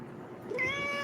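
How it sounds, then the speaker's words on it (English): A house cat lets out one short, close meow that rises and then holds its pitch, heard clearly against quiet room tone. "here comes the cat."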